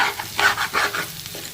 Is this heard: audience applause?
no